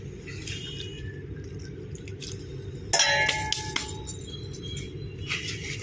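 Water drains from a plant pot in light drips and splashes, with a few glassy clinks and a louder burst of trickling midway, against a steady low background hum.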